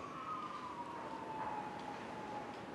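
An ambulance siren wails steadily at close range, its tone sliding slowly downward as it passes, over a constant dense rumble of traffic or engine noise with no voices.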